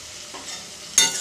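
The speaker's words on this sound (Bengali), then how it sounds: "এবার ভালো করে নেড়ে চেড়ে নেবো।" Food seasoned with salt is stirred in a frying pan, giving a soft scraping over a faint, steady sizzle, then a sharper, louder scrape and hiss near the end, close up with no talking.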